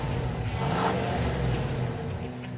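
A 2019 GMC Sierra Denali 1500 4x4 pickup with its 6.2-liter V8 accelerates, a steady deep engine roar that swells slightly mid-way, heard close and alone.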